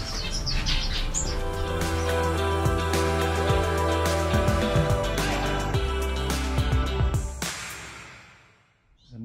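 Aviary birds chirp and tweet in a dense, continuous chorus of many overlapping calls, fairly close and steady, over a low hum, before the sound cuts off near the end.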